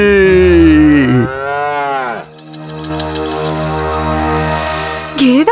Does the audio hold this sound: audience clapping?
no